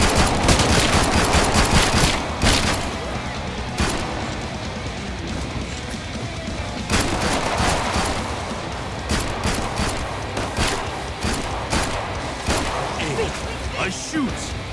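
Rapid gunfire rattles through Killing Floor 2, sustained loud automatic bursts and repeated sharp shots filling the scene, with voices talking over the shooting.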